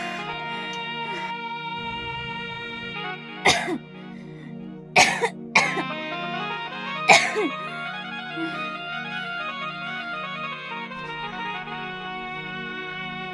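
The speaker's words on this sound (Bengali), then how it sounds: "একটু ঠান্ডা লেগে গেছে তো, তাই একটু কাশছি" A person with a cold coughs in a short cluster of several harsh, close coughs in the middle, over a steady tonal background with no speech.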